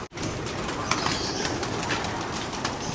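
Pigeons let out of a backyard loft through a release door, a steady bed of cooing and fluttering bird sounds with occasional wing flaps, fairly close and continuous with no talking.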